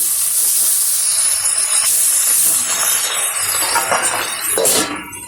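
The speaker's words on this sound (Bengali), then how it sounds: "এইভাবে বাকি মাছগুলোও কিন্তু আমি ভেজে নেব।" Pabda fish fry in hot oil with a loud, continuous, close sizzle and hiss that runs throughout, with faint clinks of utensils.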